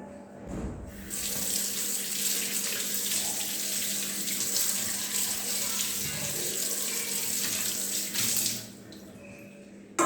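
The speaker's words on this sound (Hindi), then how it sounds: "अब देखिए मैं इसे अच्छे से साफ़ कर लेती हूँ पानी से।" Running tap water pours steadily over a copper plate being washed in a sink, a continuous close splashing stream that lasts nearly the whole time and cuts off near the end.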